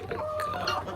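Backyard homestead chickens cluck and murmur close by in a short, continuous burst of overlapping fowl calls.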